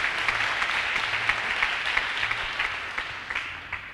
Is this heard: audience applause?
yes